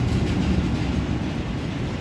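A train sits on a shipment transfer track, giving a steady loud rumble with a dense low roar throughout, close by, with no voices.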